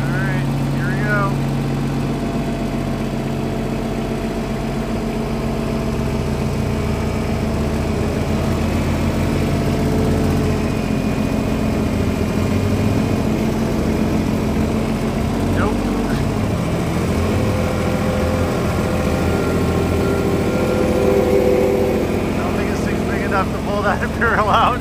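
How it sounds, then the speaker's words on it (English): A small tractor engine runs steadily near a property where barn-find 1968 Imperials sit, a continuous low rumble with a few brief mechanical clatters, while people talk over it. "I'm gonna grab the tractor."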